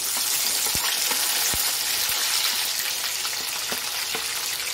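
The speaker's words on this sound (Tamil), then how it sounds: "வெங்காயம் சேர்த்து வதக்கிக்கலாம்" Onions sautéing in hot oil with popped mustard and fenugreek seeds for an eggplant kuzhambu, a dense, loud crackling sizzle throughout, punctuated by occasional sharp ladle taps against the pan.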